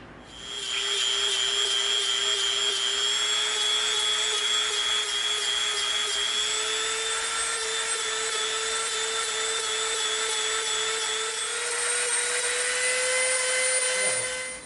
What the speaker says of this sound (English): we're going to come in with our super rough Dremel bit and we're going to clean this up